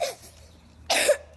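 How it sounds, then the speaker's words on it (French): Single coughs from a toy baby doll, one faint at the start and a louder, harsher cough near the end, separated by quiet. "Et toi, tu tousses."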